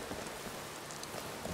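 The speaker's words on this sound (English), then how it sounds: "I think this is the second time it's been raining." Rain falls steadily in the game Skyrim, a dense, even hiss of drops with no other sounds over it.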